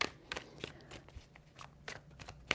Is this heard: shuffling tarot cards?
yes